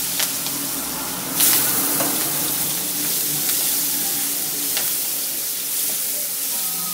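Prawns fry lightly in oil, producing a constant broad sizzle with a brief louder crackle near the start and faint stirring taps.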